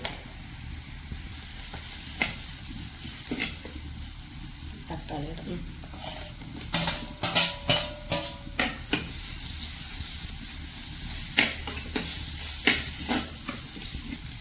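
Curry leaves and spices crackle and sizzle in hot oil in a home kitchen, with a steady frying hiss broken by sharp spits and pops, clustered bursts in the middle and again near the end.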